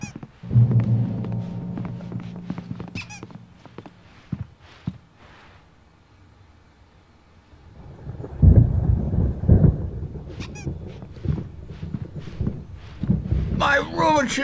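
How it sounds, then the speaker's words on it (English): Low rumbling thunder rolls through a storm in the video game Alan Wake, with deep booms near the start and again in the middle, between quieter stretches, and a voice is heard over parts of it. "There's a storm coming. Oh, what a storm."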